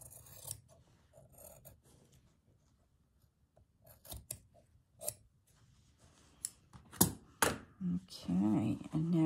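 Scissors snip through fabric while trimming the edge of a shabby chic Japanese rice bag, a series of crisp, close cuts spaced irregularly, growing busier and louder toward the end alongside faint handling rustle.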